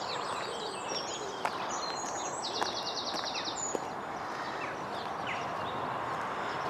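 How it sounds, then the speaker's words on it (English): Birds chirp and call in the background at a countryside holiday site with wood pigeons around, over a steady outdoor hiss, with faint clicks and no talking. "Wood pigeons,"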